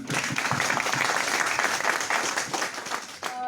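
An audience claps together in a loud, dense burst of applause that holds steady for several seconds before thinning out, with a voice starting up at the very end.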